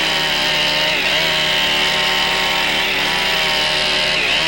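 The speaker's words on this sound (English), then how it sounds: "This instruction is intended to help you maintain a chainsaw in good working order and to use it well and safely" Medium-sized chainsaw for log building work running at a loud, steady high-revving drone for the whole stretch, its harsh whine holding nearly constant with only slight pitch wavers and no talk.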